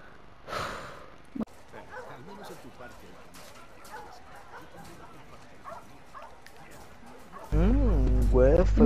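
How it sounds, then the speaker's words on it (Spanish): A dog gives a few close yips and whimpering barks amid a noisy scene with voices talking, followed by a loud tonal burst at the end. "Mi perro."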